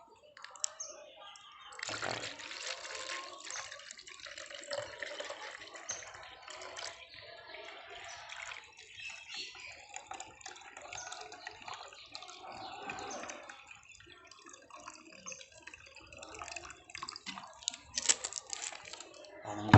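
Water pours steadily into a container to mix a litre of plain water into a root-boosting solution, a continuous splashing, gurgling flow that runs close and fairly loud for most of the span.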